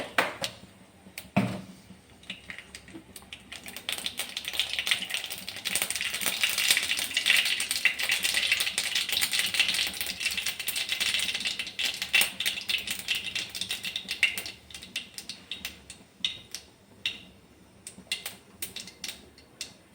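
Mustard seeds splutter in hot sesame oil in a pan for mango pickle tempering, a dense close crackle of rapid pops that swells in the middle and thins to scattered snaps, with no talking.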